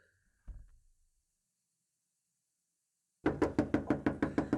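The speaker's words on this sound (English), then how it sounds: "That's just someone knocking at your door." Knocking on a door, a steady series of about nine firm, evenly spaced raps, close and fairly loud after a long silence, with a brief dull thump earlier in the clip.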